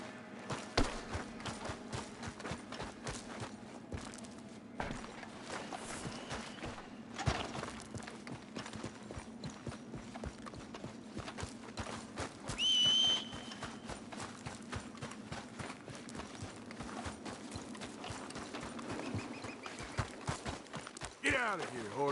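A horse's hooves clip-clop steadily at a walking pace, close and rhythmic over a constant low hum, with a brief snort or whinny midway and a final louder scuffle; no talking is heard.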